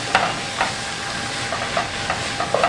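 Chorizo and corn soup is stirred in a pot, with soft scraping strokes recurring every half second or so over a steady low simmering hiss.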